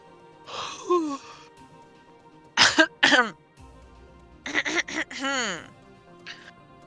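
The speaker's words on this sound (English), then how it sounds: "I say as I cough a million times more" Several harsh coughs and throat-clearing bursts, one early, then a close pair, then a cluster near the end, with a short vocal sound among them.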